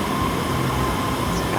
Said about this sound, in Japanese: 列車来ましたね。